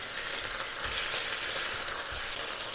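Burgers and onions sizzle on a hot griddle, a steady bright hiss of frying fat that runs continuously without pause, close up and fairly loud.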